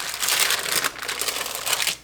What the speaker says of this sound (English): I basically take the corners of my parchment paper,